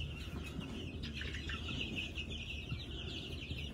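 New Hampshire chickens on a farm cluck and murmur steadily close by, a flock chattering continuously with overlapping calls, no talk.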